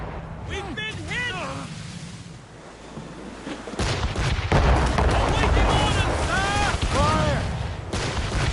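Ship cannon fire during a naval battle in the Assassin's Creed Rogue video game, heavy booming volleys with a sustained roar, while crew voices shout orders over it.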